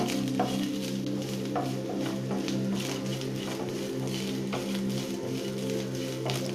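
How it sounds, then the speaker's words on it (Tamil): Coconut and black pepper roasting in a pan with a little oil, a low steady sizzle under a constant hum, with occasional light scrapes of a spoon stirring the mixture. "நல்லா ப்ரௌன் கலர் வர வறுக்கணும்."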